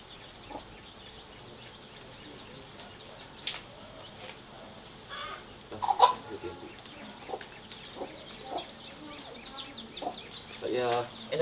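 A chicken clucking in short scattered bursts close by at a market, with other fowl sounds and faint background activity around it and a few sharper cries toward the end.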